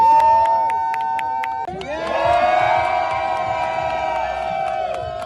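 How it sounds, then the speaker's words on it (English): A crowd at a Nigerian political party primary gathering cheers and shouts, with tonal horn-like or whistle sounds ringing over the noise and a sudden swell of raucous cheering partway through. "please let's give him a round of applause"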